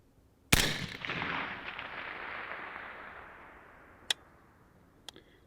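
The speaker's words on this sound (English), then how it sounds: "I'm gonna take another shot just on the right edge." A 6.5 Grendel rifle firing a Hornady 100 grain ELD-VT round on a range: one sharp, loud report with a long rolling echo, then two faint distant cracks of the bullet's impact downrange.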